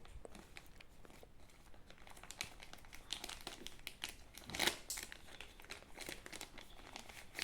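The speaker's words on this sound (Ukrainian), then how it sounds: "Давайте зараз цей пакетик розпакуємо." Hands open the plastic packet holding a DJI Mic Mini wireless microphone, giving soft, quiet crinkling and small tearing sounds in irregular bursts, close up and without speech.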